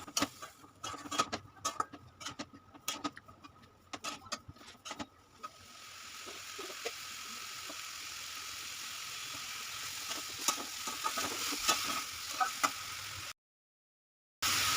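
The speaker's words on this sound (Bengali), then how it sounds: "মশলার সাথে কচুরলতিটাকে খুব ভালো করে মিশিয়ে দিতে হবে।" Boiled kochur loti being stirred into a fried onion-garlic spice mix in a pan, with irregular scraping and tapping at first, then a steady sizzle, cut off by a brief silence near the end.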